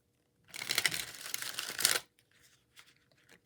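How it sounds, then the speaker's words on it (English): A tarot card deck is shuffled once in a crisp, close riffling burst lasting about a second and a half, followed by a few faint soft card taps and handling noises. "Let's do another shuffle."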